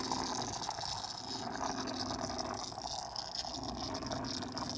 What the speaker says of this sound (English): I'm going to turn my water pump on, and we're going to flush that filter out.